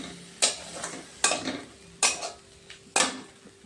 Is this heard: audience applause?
no